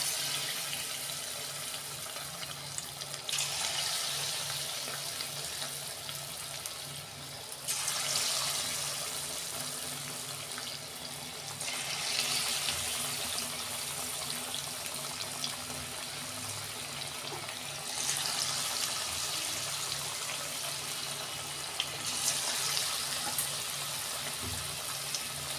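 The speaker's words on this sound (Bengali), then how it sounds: "আমি পকোড়াগুলো ভেজে নিচ্ছি।" Pakoras sizzling in hot oil for a rice chilli chicken dish, a steady hissing, crackling fry with broadband bubbling that swells and eases in waves, close and fairly loud with no talking.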